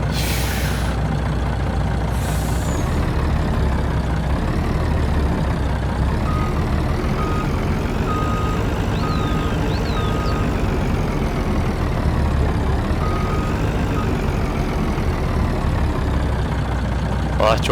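Steady idling truck engine in Farming Simulator 19 with a modded truck, a continuous low rumble throughout with a faint warning tone and brief hiss near the start.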